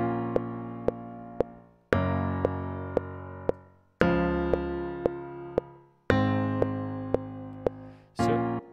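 Stock MIDI piano in Logic plays slow, evenly spaced chords, each struck sharply and left to decay before the next, loud and alone with no voices.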